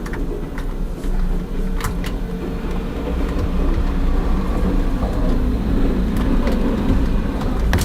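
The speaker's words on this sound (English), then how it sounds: "outside my house there was a garbage truck who just ran over some snow" A garbage truck drives over snow outside a house, a loud continuous low engine rumble with crunching, rattling texture and a few sharp clanks, steady throughout and alone without voices.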